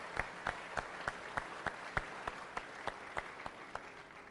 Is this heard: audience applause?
yes